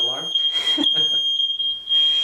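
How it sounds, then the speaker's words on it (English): Smoke alarm sounding a continuous piercing high tone from another room while someone cooks, a person talking over it nearby. "fire alarm is kind of going off"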